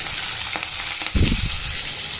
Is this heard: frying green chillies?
yes